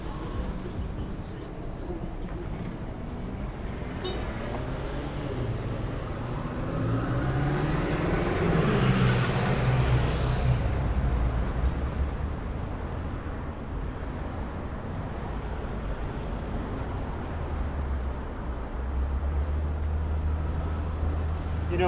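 Steady city street traffic in Red Hook, Brooklyn, with cars passing close by, one swelling loudly past midway, over a constant roadway rumble.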